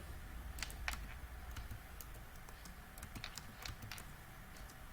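Keys clatter on a computer keyboard as a command is typed, with a steady run of sharp, close clicks over a low background hum.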